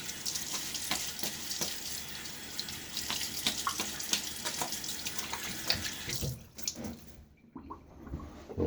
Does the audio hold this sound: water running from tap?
yes